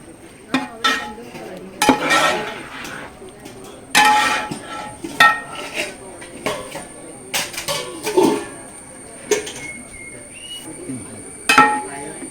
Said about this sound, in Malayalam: അപ്പോൾ വെന്ത കപ്പ എല്ലാം കൂടെ ഇളക്കി മിക്സ് ചെയ്ത് ചേർക്കുക